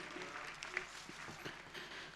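A large assembly gathered at a religious festival in Vadtal applauds, a soft, even wash of many hands clapping heard from a distance and sustained throughout.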